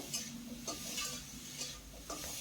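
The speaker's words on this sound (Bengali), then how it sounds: "কখনো গ্যাসের ফ্লেমটা লোতে রেখে এইভাবেই আলু ফুলকপিটাকে ভেজে নিতে হবে" Potatoes and cauliflower fry in a pan on a low to medium flame. Soft rhythmic stirring strokes, roughly every half second, sit over a faint continuous sizzle, heard quietly with no talking.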